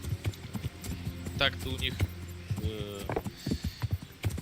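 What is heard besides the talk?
armoured horse hooves in video game Kingdom Come: Deliverance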